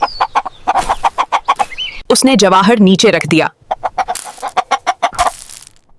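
In an animated children's tale, a rooster clucks in a short burst of clear, warbling calls between stretches of narration, close and loud.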